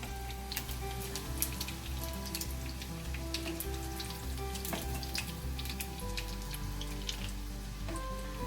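Beef shami kebabs frying golden brown in a pan give a steady close sizzle full of fine crackles and pops, over a low constant hum, with no voices.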